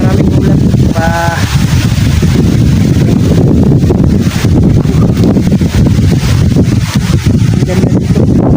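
Strong wind roars across a high hilltop, buffeting the microphone in heavy, continuous gusts with rumbling low-end noise; a faint voice briefly rises near the start.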